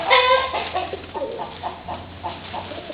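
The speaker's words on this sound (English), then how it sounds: "Pretty rooster, huh? You guys are singing up a storm, huh?" A rooster at a farm with other fowl gives a loud harmonic call near the start, followed by a run of softer clucks and short calls over steady background noise.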